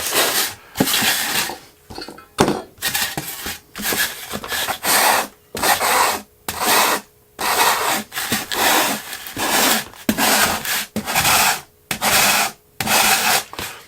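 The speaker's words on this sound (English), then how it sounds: "there's only one way to sand, and that's in one direction on this foam" Foam being hand-sanded with 80 grit sandpaper in single-direction strokes, a close, loud, rhythmic series of coarse rasping swipes separated by short pauses.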